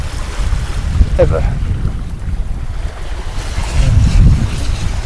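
A sailboat makes a comfortable ocean passage in about 10 knots of wind, with rushing wind noise buffeting the microphone over a constant wash of waves against the hull, loud and close, with a brief spoken word.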